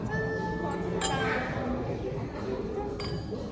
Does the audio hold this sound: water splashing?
no